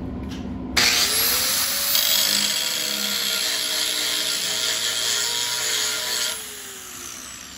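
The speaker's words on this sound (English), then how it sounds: "what you saw when you do a spark test on stainless steel is very few sparks" A grinder spark-tests stainless steel, starting abruptly with a loud, high whirring whine that holds steady under light grinding, then drops off as the wheel winds down near the end.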